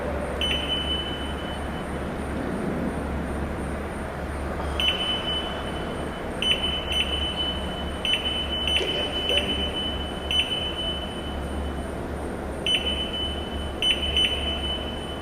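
Short, high electronic beeps from a Leyman side gate controller fault alarm go off in irregular bursts over a low mechanical motor drone, loud and close throughout.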